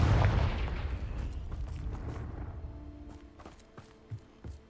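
A Confringo fire-blast spell going off in the Hogwarts Legacy game, one heavy booming impact at the start that rumbles and fades over several seconds, followed by a couple of faint small pops.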